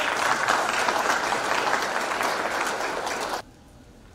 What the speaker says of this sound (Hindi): आपके ताली बजाने से मैं प्रसन्न नहीं होता